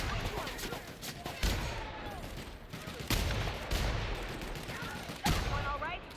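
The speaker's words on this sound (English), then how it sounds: "Oh, it's a Deadeye assault rifle." Deadeye assault rifle fire in The Outer Worlds lands as several sharp bursts, roughly four loud volleys spaced a second or two apart over a rumbling game backdrop, with no talk.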